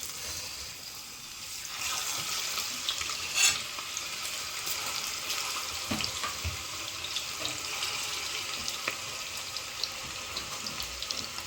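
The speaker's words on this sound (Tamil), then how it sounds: "ஓகே, நாங்கள் முழுவதும் பொரிச்சு எடுத்துட்டு உங்களுக்கு காட்டுறோம்." Chicken 65 deep frying in masala-coated oil gives a steady, close crackling sizzle throughout, with occasional louder pops and clinks of utensils stirring in the pan.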